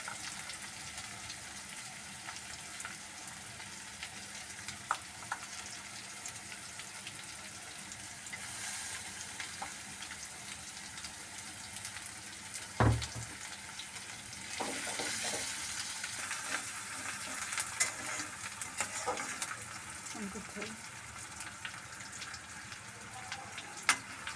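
Chopped garlic frying in a pan, a soft continuous sizzle with occasional stirring scrapes and a brief clatter midway, fairly quiet and close.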